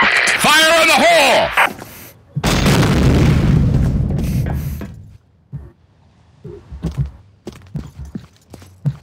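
Grenade blast in the Combat Arms shooter: a voice shouts at the start, then a loud, broad booming explosion roars for about two seconds before fading into quieter footsteps and scattered gunfire clicks.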